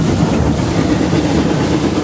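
A train runs along rails through a tunnel of dense teak trees, producing a loud, steady rumble with a continuous low roar and faint rhythmic rolling, heard close and alone without voices.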